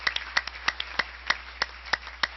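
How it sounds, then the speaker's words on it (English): A small group of board meeting attendees gives a few seconds of applause for the Clay Rotarians, sparse, separate claps in an uneven patter that sounds close and fairly faint. "so give them a round of applause"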